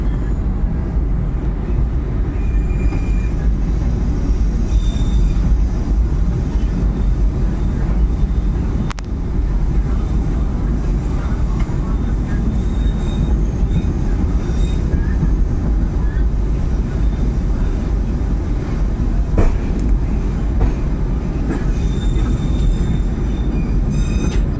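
The Pangrango economy train on the Bogor–Sukabumi line rolls slowly along the rails, a loud continuous rumble of wheels and carriages with occasional faint squeals and knocks.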